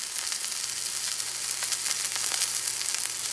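Tuna sears in a hot cast-iron pan with a steady, close hiss and fine crackling spatter that stays even throughout, no voices present.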